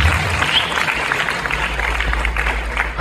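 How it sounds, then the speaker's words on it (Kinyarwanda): A church congregation applauds at a wedding celebration, steady broadband clapping filling the space throughout with a low hum beneath and no clear voices. "Mugenzi reka twese amateraniro dukomere Imana amashyi kandi nawe tubakire"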